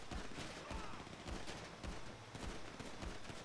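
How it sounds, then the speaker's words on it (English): Gunfire aimed at car tires in the video game GTA 5 Online, a quick volley of sharp shots in an irregular burst pattern, fairly faint under game ambience. "I'm trying to shoot his tires out."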